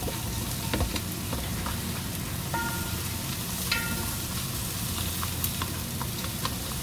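Garlic and onion fry in a pan, a steady dense sizzle running throughout with occasional light scrapes and clicks of stirring, close and with no talking.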